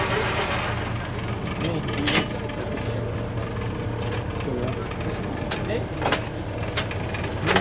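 A grain cruiser machine runs in low gear at a factory, a steady, loud mechanical drone with a high whining tone and intermittent clanks throughout.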